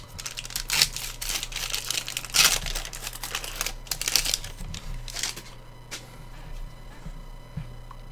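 Foil packs of 1991-92 Upper Deck basketball cards crinkle and tear in repeated close, loud bursts, with brief rustling pauses between handfuls and a steady low hum beneath.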